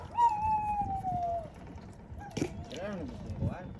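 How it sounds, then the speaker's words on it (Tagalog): Dogs on Gigantes Island in Carles, Iloilo, a long, clear, falling howl near the start followed by shorter whining cries, heard over faint background noise and some talk. "Nag-iyakan yung mga aso,"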